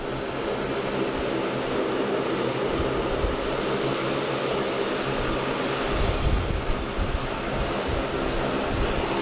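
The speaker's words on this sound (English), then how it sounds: "The loud sub 340 is just starting up." Saab 340 turboprop starting its engines at Sydney Airport, a steady broadband engine roar that swells slightly near the end, fairly close and with no talk over it.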